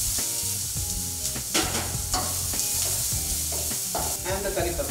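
Cardamom pods, cinnamon sticks and onion fry in a little olive oil, a loud continuous close sizzle broken by repeated stirring clatters and scrapes.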